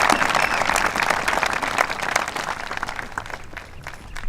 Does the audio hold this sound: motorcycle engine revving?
no